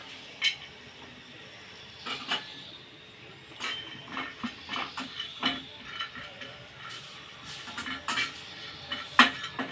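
Sesame, garlic, peanuts and whole spices dry roasting in a pan, heard as sparse metallic clinks and scrapes of a spoon against the pan over a quiet background, with irregular sharper knocks.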